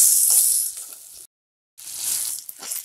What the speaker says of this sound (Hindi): घी के साथ हम राइस को 2 से 3 मिनट तक भून लेंगे।